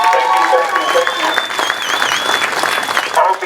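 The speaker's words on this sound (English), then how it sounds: "can we get another round of applause?" A crowd applauds police officers at a Front Royal community gathering, steady loud clapping with a few cheers and whistles, and voices talking through it.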